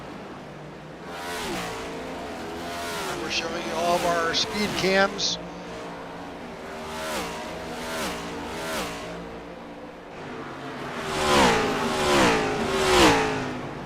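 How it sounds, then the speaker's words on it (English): Race cars in a racing video game roar past at Watkins Glen International, their engines rising and falling as several pass one after another, loud in bursts, while people talk over them. "let the audio do its thing and let these cars just rumble on by."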